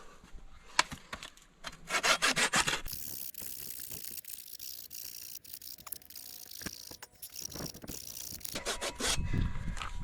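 A hand saw cutting through a wooden pickaxe handle held without a vise gives close, rhythmic rasping strokes in uneven bursts with rubbing and shifting noises between them.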